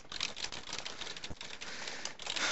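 Rapid, faint clicking of keys typed on a computer keyboard, a dense steady patter with no voices.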